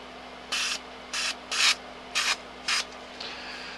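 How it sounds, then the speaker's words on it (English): Five short hissing bursts of cold spray aerosol are aimed at a transistor inside a Sansui T-550 tuner under repair, evenly spaced and close up over a faint electrical hum, with no talking. "Let's see if we can get some cold spray on it"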